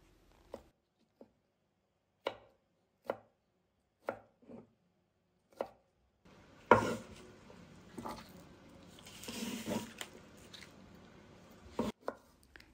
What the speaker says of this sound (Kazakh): Осылайша етіп соломка етіп турап аламыз қиярымызды.